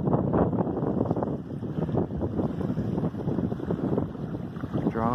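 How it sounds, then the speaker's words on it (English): A strong south wind beside a lake in February buffets the microphone with a steady, loud, rumbling roar that holds for the whole stretch without any talk. "Strong south wind."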